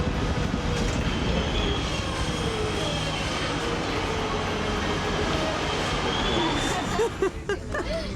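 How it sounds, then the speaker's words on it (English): Steady rumbling of a train in motion, loud and continuous, with a broadband rush that eases slightly near the end. "We're on the train."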